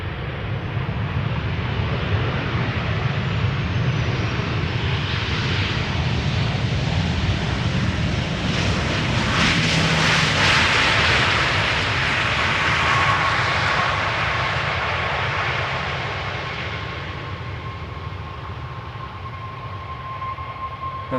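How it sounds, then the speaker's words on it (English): An Air Europa Boeing 737-800 jet arriving from Madrid on approach to Schiphol's Polderbaan runway, a steady broadband engine roar that builds to a peak near the middle as it passes close overhead, then slowly fades, with no talk. "this is Air Europa, arriving from Madrid, 737-800"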